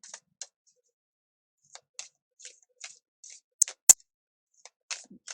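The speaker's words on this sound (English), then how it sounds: "just wanted to give the cards a bit of a shuffle before I use them" Oracle cards being shuffled, a series of soft separate papery flicks and taps, quiet and irregular with near silence between them.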